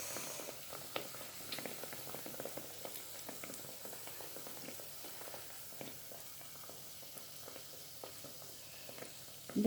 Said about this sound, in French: là ça fait une belle friture